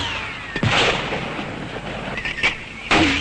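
Heavy American mortars fired by Kurdish Peshmerga fighters boom in several sharp blasts, around three distinct reports with echoing rumble between them, loud and fairly close in an open outdoor setting.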